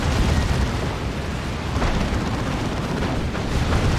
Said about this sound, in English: We can see Manticore strikes on the Land Raider again.